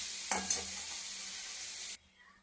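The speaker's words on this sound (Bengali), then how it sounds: "পেঁয়াজটাকে ভালোভাবে লাল লাল করে ভেজে নেবো।" Onions sizzle steadily in a hot pan, with two quick stirring scrapes near the start, then the frying cuts off abruptly.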